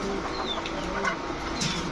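Pigeons at a street pigeon seller's stall, including racer, giribaz and Danish breeds, coo softly through a steady murmur of market noise, with a few faint calls standing out over the constant background.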